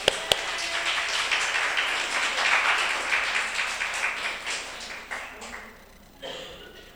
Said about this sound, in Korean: 우리 조영자 어머니 와 계신데 우리 박수로서 환영해 드릴까요?